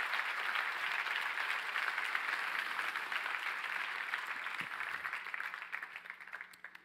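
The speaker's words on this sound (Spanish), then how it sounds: "Dale fuerte ese aplauso al Rey." Sustained congregational applause in a church service, steady dense clapping from a large crowd that holds for several seconds before tapering off into scattered claps near the end.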